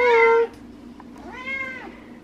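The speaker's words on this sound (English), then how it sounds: "So say hi to my cat." A pet cat meows twice up close, first a loud, clear call and then a softer, rising second meow.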